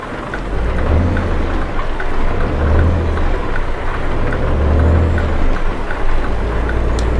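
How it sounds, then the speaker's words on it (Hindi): Rain drums steadily on a Mack Anthem 70 truck in Euro Truck Simulator 2, a loud, continuous patter over a deep rumbling engine drone that rises and falls in slow waves. "लगता है आज बारिश पूरे दिन भर आएगी।"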